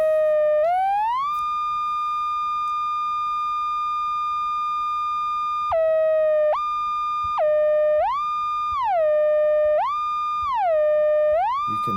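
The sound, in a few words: Drambo Buchla Music Easel simulator synth with portamento, low pass gate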